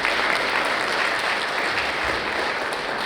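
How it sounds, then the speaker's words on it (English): Audience at a Namibian revenue agency event applauds in a dense, continuous wash of many hands clapping at once, even in loudness throughout with no voices standing out. "I think I must give them a round of applause"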